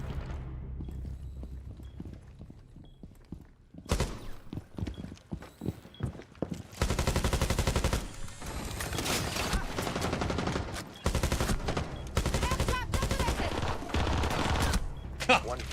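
Gunfire in a tactical shooter game: a few scattered shots at first, then dense rapid automatic bursts that keep hammering close and loud through much of the stretch, with short pauses between strings of fire.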